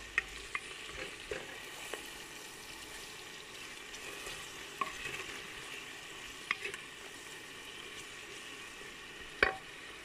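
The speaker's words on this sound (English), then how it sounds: "Stir." Food fries in a pan with a soft continuous sizzle while a spoon stirs it, adding occasional scraping clicks against the pan, all fairly quiet and close, with no talking.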